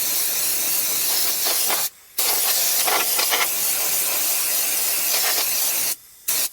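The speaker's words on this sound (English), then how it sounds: "I spray it at max air pressure" A spray gun at max air pressure applying lanolin rust proofing gives a steady, loud hiss of compressed air spraying almost continuously, cutting off briefly twice, with faint rattling underneath.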